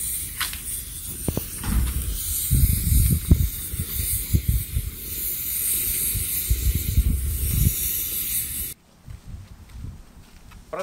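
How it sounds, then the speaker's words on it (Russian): Steam hissing from the valves of a pressure cooker cooking beef, a continuous loud hiss with irregular bursts that cuts off sharply near the end. "Дожидаемся, когда из-под клапанов пойдет пар."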